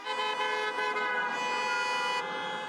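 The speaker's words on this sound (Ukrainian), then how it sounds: "Клаксони авто не змовкають." Car horns toot and honk continuously at a Kyiv rally, a sustained layered blare from several vehicles nearby, with no pauses.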